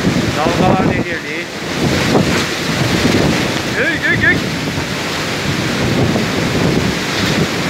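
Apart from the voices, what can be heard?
storm waves crashing on the shore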